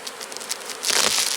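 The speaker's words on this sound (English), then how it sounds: "Oh, we do have bees up here" Honey bees buzz around a hive in a rainy-season outdoor setting, a steady close insect drone that swells louder and denser in the second half.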